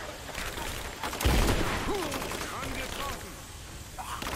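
Bursts of gunfire in the Rise of the Tomb Raider video game, rapid cracking shots clustered around the middle, mixed with game effects and background clutter.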